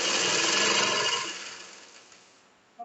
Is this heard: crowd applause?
no